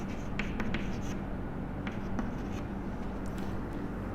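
Pen or marker scratching out an equation by hand for a programming lesson on the conditional operator, soft intermittent strokes and taps close by in a quiet room.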